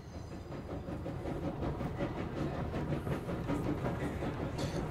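A train runs in the video game Control, a steady rolling rumble with rhythmic clickety-clack beats and faint hiss, continuous and fairly loud throughout with no talk.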